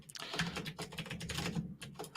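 Fingers tapping on a computer keyboard in a writers' room, a quiet, irregular run of quick keystrokes with brief pauses, close and soft, with no talking.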